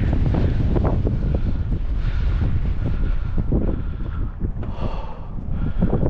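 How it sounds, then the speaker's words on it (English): Steady, loud wind roars across the microphone at an abandoned acid factory, a rough continuous rumble with shifting gusts and no speech. "Oh, I don't like this wind either."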